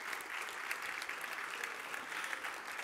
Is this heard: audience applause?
yes